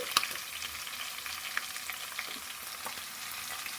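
Onions frying in a pan for a chicken fry dish, a steady hiss of sizzling oil with scattered crackles and a few stirring scrapes, close and even throughout with no talking.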